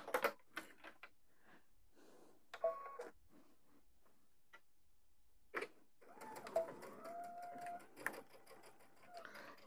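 A sewing machine stitches fabric for a Christmas stocking in short, quiet bursts with pauses between them, faint and close.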